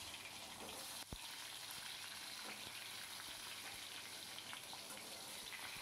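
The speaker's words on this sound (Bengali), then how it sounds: "সর্ষের তেলটা একটু গরম হয়ে গেলে পরে আমি আস্তে আস্তে বেগুনগুলোকে ছেড়ে দিচ্ছি।" Eggplant pieces fry in hot mustard oil with a steady, dense sizzle and crackle, one brief knock near the start, close and continuous with no voices.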